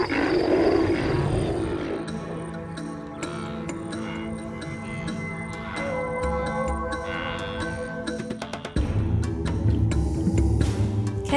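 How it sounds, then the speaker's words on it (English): A lion roars on safari in Kenya, part of a wildlife scene with dense, layered animal calls and rumbling low growls that swell and shift throughout, loud and close, with a heavier burst near the end and no talk. "I hear a lion and a buffalo."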